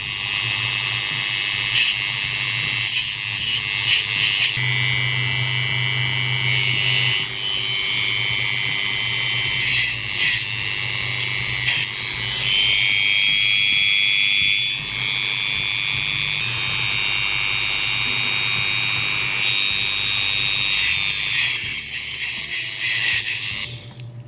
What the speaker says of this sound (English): The Dremel's been warmed up, so we're ready to roll.